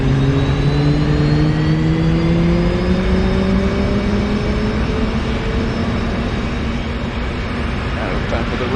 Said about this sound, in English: that engine is essentially started